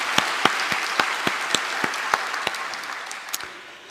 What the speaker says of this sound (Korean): 우리 서로를 격려하는 박수 한번 보내줄까요?